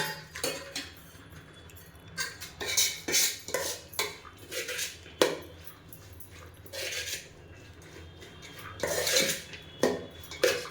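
Spiced puffed rice masala is mixed in a bowl with a spoon, repeated scraping and clinking strokes in uneven bursts close by, a dog whimpering faintly in the background and no talk.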